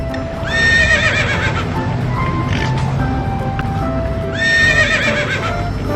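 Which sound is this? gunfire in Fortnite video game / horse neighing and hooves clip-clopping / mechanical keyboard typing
horse neighing and hooves clip-clopping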